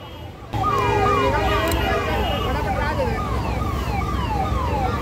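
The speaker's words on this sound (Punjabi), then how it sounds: "ਥੋੜਾ ਸਾਈਡ ਹੋ ਕੇ ਐਂਬੂਲੈਂਸ ਨੂੰ ਰਸਤਾ ਦਿਓ ਪਹਿਲੇ ਐਂਬੂਲੈਂਸ ਨੂੰ ਜਾਣ ਦਿਓ" A loud ambulance siren wails close by on the GT Road at Taraori, Karnal, in a repeating rising and falling pattern, starting abruptly and continuing steadily with traffic noise underneath.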